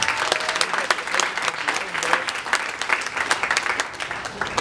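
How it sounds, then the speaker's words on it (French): Church congregation applauding and cheering together at a baby girl's presentation service, a dense, steady wash of clapping that fills the whole stretch at close range. "Dion, est-ce qu'on peut acclamer le Seigneur?"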